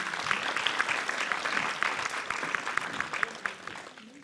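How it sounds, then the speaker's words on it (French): An audience at a Sciences Po Bordeaux talk applauds as two guests walk up, a moderately quiet patter of many hands with a few sharper individual claps, gradually thinning toward the end. "Vous pouvez les applaudir."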